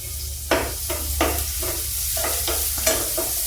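Onion and crushed dried curry leaves stir-frying in a pan for sabudana khichdi: a close, steady sizzle broken by rhythmic scraping strokes of a spoon.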